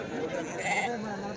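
Large male goats bleat at the Cheluru weekly sheep and goat market in Karnataka, a brief nearby wavering bleat amid crowd chatter and someone talking.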